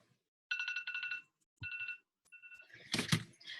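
A phone alarm rings in two bursts of bright electronic trills, followed by rustling and handling noises close by.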